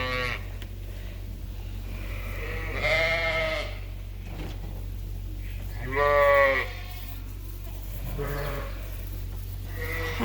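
Sheep housed indoors on a farm during bad winter weather bleat in a series of repeated, moderately loud calls over a steady low ventilation hum.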